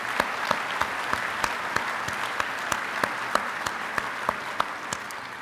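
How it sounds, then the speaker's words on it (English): Sustained applause from an audience at a United Fire firefighter of the year presentation, a dense steady wash of many hands with a few sharper claps standing out, no talking. "Can we give a round of applause, please, for all of those that worked so long and so hard to put this together for you?"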